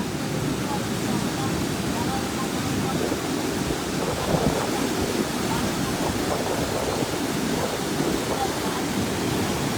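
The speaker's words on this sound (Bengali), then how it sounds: "আসলে কি ভয়ানক পানির সাউন্ড আর কি স্পিড।" Strong floodwater rushes past near a railway line, a loud unbroken roar of turbulent current blended with wind buffeting the microphone throughout.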